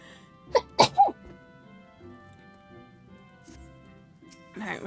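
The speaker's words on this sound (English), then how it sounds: "I have to like try not to sneeze" Someone sneezes in a tight cluster of three sharp bursts close to the microphone during a quiet game session, then a voice begins to speak.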